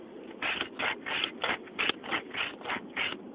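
Steady back-and-forth strokes of a rasp filing a horse's hoof during a trim, about a dozen rhythmic rough scrapes at an even pace, close up and moderately loud with no talking.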